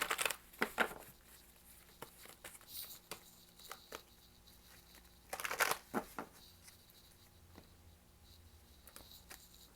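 Tarot cards riffle and slap in quick bursts, with quieter handling and shuffling between, up close in a quiet room.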